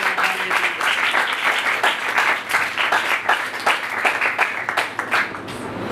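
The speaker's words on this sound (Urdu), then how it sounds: "آئے یسوع کے لیے زوردار تالیاں" A church congregation gives loud applause for Jesus, a dense, continuous roar of many hands clapping that holds steady for several seconds before tapering slightly at the end.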